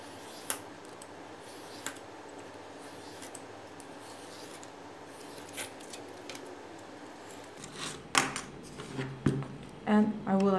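Scissors cutting shoe insole material close by, a few sharp isolated snips early on, then denser crunching cuts toward the end over quiet room tone.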